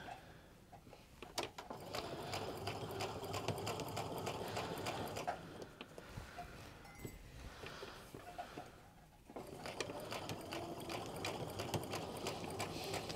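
A sewing machine stitches fabric along a curved seam of pull-on pants, humming steadily and close for several seconds, easing briefly mid-run, then picking up again at full speed.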